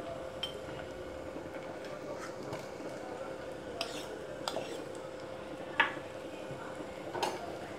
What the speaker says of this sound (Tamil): இப்போ வந்து நான் இஞ்சி பூண்டு பேஸ்ட் ஆட் பண்ணிக்கிறேன்